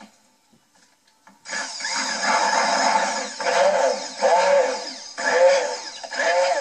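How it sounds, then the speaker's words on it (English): Loud whirring stick blender mixing cream soap starts after a short quiet moment and runs steadily, its pitch wavering as it dips and pulses. "I'm going to take my stick blender to it."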